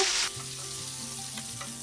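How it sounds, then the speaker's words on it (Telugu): Oil sizzles and crackles loudly as green chillies fry with tempering spices, a steady hiss with a bright burst at the start and no voices. "యాడ్ చేసుకుని లైట్గా ఫ్రై చేసుకోవాలి"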